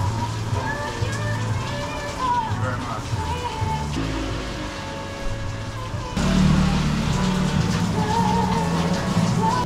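Heavy rainy-season rain in Manila, a steady wash of falling water and splashing with traffic sounds mixed in, continuous and growing louder near the end, while a voice talks over it.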